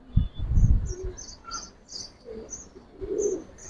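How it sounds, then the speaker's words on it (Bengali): Giribaz pigeons give soft, low coos close by in short rolling bursts, with faint high chirps and tweets from other birds scattered over the quiet gaps. "সম্পূর্ণ ভাই টাকি চোখের কবুতর"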